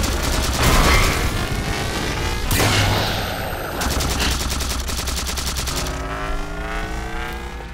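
Turret gunfire in the Halo 4 game: loud, sustained automatic bursts of rapid shots close up, with a sharp blast partway through and the firing continuing steadily afterward.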